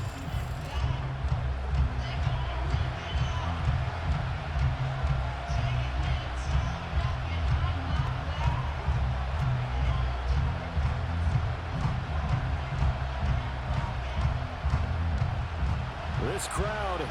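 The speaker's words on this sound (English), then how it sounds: "This crowd turning up the decibel level." A packed stadium crowd roars steadily and loudly throughout a late-game third-and-long during an NFL Sunday Night Football matchup between the Atlanta Falcons and Washington Commanders, a dense sustained wall of noise with no clear breaks.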